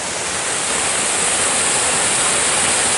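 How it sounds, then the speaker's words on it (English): Waterfall spilling over a historic dam beside an old flour mill in California, a steady, loud, full-band rush of falling water close by, unbroken for the whole stretch with no voices. "So we got a waterfall"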